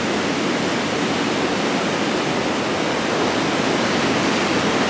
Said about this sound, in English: So it's some nice waves.